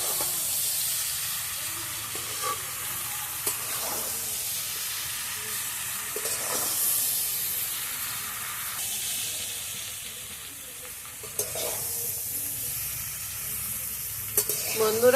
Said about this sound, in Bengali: তার আগে আমি এটা একটু নেড়ে দিচ্ছি।